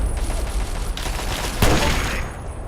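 Powerful guns firing in the video game Fallout 3, a sharp burst of rapid gunfire breaking out midway through a low background rumble, loud and close with no voices.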